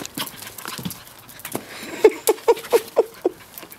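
A happy puppy playing and running makes a quick series of short yips and scrabbling paw patters, close by, with light panting-like breaths in between.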